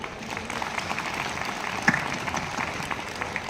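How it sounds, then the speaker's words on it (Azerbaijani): Steady applause from a crowd at a Victory Day ceremony in Goychay, Azerbaijan, a continuous patter of many hands clapping at moderate volume, with one brief louder burst midway. "Bir gözəl alqışlayırıq."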